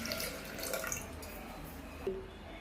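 Water pours into a pressure cooker of washed black ghevda lentils, a soft continuous trickling splash at close range with a small louder slosh near the end.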